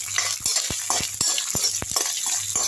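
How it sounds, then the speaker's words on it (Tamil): Garlic sautéing in a pan for a spicy garlic chutney, with a spoon scraping and stirring in a steady rhythm of sharp clinks over a continuous close sizzle. "பூண்டு நல்லா வதக்கி விட்டுருங்க."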